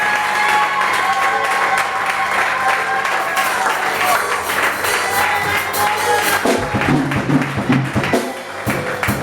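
A congregation at a Women's Day church service in Vénissieux applauds continuously, with dense clapping and some cheering, while voices and music carry on underneath.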